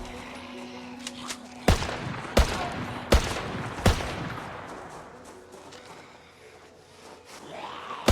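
Gunshots from the video game Project Zomboid fire at close range, four sharp single reports spaced about a second apart, followed by fading ambience and a faint voice-like sound near the end.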